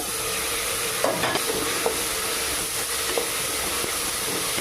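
Tomato dropped into a hot frying pan for a dal rice dish sizzles steadily and loudly, with occasional light stirring clinks over the continuous hiss.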